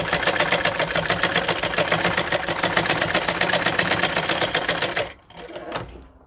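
A sewing machine stitches the hem of fabric for palazzo pants, a fast, steady mechanical whirr close up and alone for about five seconds, then a short softer burst after a brief pause.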